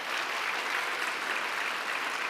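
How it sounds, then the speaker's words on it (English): Steady, dense applause from a large graduation audience at a school commencement, honoring faculty and staff; continuous clapping fills the whole stretch with no voices over it. "now applaud your faculty and staff who have given so much to you"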